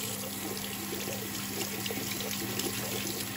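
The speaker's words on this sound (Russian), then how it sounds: "смываем водой и протираем губкой попутно" Running tap water rinses a WWII-era buckle dug up while metal detecting, a steady close splashing flow that continues without pause and with no talking.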